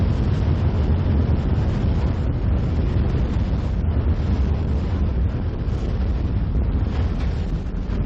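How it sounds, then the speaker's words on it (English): Strong wind buffets the microphone at a sailing race, a constant loud low roar with gusty rumble throughout and no voices. "and plenty of wind here at the bottom though, Bob."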